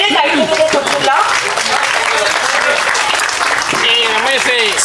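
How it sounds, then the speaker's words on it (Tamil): Audience applause fills an audio launch event for a Tamil film, a dense and loud wash of clapping from a large crowd, with a few voices and cheers rising over it throughout. "லேடிஸ் அண்ட் ஜென்டில்மேன் ப்ளீஸ் ஒரு பெரிய கைத்தட்டல் கொடுத்துடலாம்."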